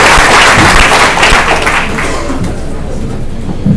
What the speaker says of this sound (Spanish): vamos a recibir con un muy fuerte aplauso, por favor.